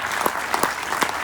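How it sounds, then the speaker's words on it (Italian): A cinema audience applauds: a short, steady patter of many hands clapping together in a hall, with no voices. "E un applauso a Tino Franco"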